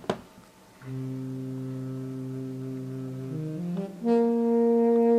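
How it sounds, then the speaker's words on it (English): A synthetic saxophone from the DSK free sax plugin plays sustained, reedy held notes, shifting pitch partway through before swelling into a brighter, louder final tone. "is a sax plugin. It sounds a bit like this."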